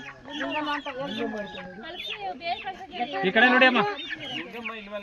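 Chicks and hens at a village distribution of poultry to families, clucking and peeping repeatedly at close range while people talk over them.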